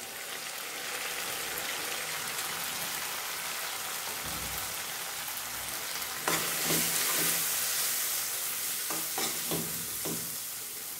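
Spice powders fry and get stirred in a hot pan while making prawn curry, a continuous sizzle with several sharper scraping stirs toward the end, close and unaccompanied by speech.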